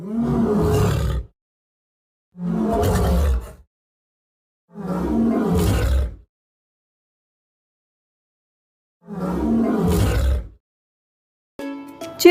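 Four loud lion roars, each lasting about a second and separated by silent pauses, in the style of a toy or cartoon animal sound effect, ending with a brief clatter.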